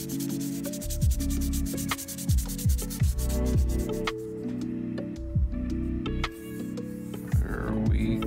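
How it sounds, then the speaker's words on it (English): Steady rubbing of sandpaper on a fingerboard's clear coat continues throughout, with a low droning hum underneath and occasional soft ticks and scrapes. "we're gonna give it really light sanding just to get rid of the layer of clear coat"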